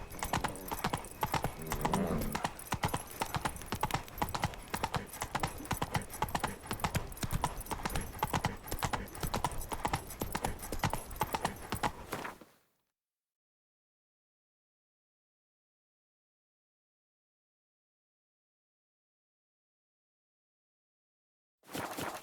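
Horse hooves clip-clopping in The Witcher 3: Wild Hunt Blood and Wine, a steady rapid galloping beat with a brief whinny early on, loud and alone for about twelve seconds, then silence before it briefly resumes at the end.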